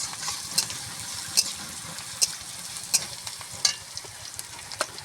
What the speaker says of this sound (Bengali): তো এখন পেঁয়াজটা লাল হওয়া পর্যন্ত নাড়তে থাকতে হবে যতক্ষণ না লাল হয়।